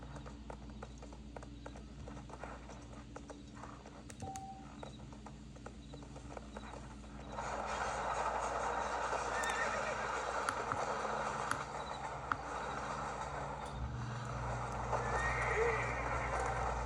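A horse in the video game Red Dead Redemption gallops with quick, steady clip-clop hoofbeats and lets out neighs. The hoofbeats grow louder and busier partway through over a quiet outdoor ambience.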